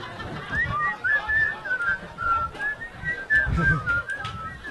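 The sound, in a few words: person whistling a song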